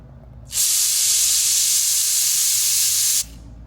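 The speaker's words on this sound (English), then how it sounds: "let's put some brake cleaner" A single sustained hiss of brake cleaner sprays into a Lamborghini Jarama engine for about two and a half seconds, starting and stopping abruptly against a quiet background.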